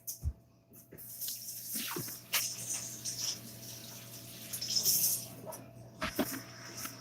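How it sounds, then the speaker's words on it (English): Hands being washed under a running kitchen tap, a steady moderate stream of water splashing into a sink with brief louder bursts of handling, close by and without talk. "I'm going to wash my hands."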